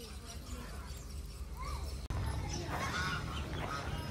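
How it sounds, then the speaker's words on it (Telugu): Ducks kept near goats and an aquarium give a few honking, quacking calls, growing busier and louder in the second half against a steady background hum. "బాతులు బాతులు బాతులు అన్నీ బాతులే."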